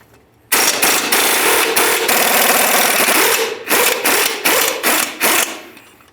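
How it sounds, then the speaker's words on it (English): A 24mm wrench works a rear strut bolt on a 2006-10 Ford Explorer, giving loud, close metallic clanks and rattling bangs in a dense run, then a few spaced knocks toward the end. "I'll use my 24mm wrench on the forward aspect here."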